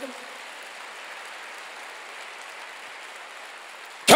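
A church congregation applauds together, a steady soft patter of many hands clapping at moderate distance that fills the room evenly before a sudden loud burst at the end.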